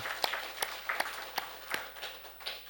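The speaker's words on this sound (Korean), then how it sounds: "우리 이 시간 그분들을 향해 감사의 박수를 드리면 좋겠습니다" A church congregation claps together at a Sunday service, with scattered sharp individual claps standing out over a softer spread of applause.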